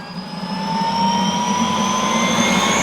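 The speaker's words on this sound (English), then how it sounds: "That is the turbine spooling up." A helicopter turbine spools up on a cold startup, a loud steady whine climbing slowly in pitch over a low engine rumble, close by and with no talk.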